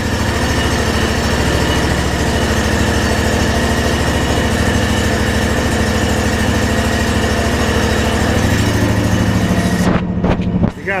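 Kawasaki 23 HP engine running steadily on an Ariens IKON X 52-inch zero-turn riding mower, a close, even idle drone with a strong low hum that continues unbroken, then shuts off with a few final knocks at the end.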